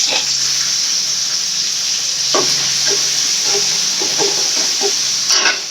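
Onion, garlic and a small tomato fry in a pan with a steady, loud sizzling hiss, broken by a few soft stirring scrapes near the end.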